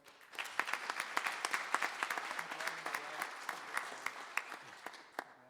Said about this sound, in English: Can we get a round of applause again?